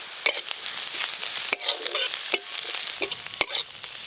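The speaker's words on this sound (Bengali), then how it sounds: "পেঁয়াজ কুচিগুলো একদম হালকা করে ভেজে নিয়েছি, এইরকমভাবেই ভাজতে হবে।" Chopped onions frying lightly in a pan with chopped green chillies on top, stirred in a steady sizzle broken by several sharp scrapes of the spatula, close and alone.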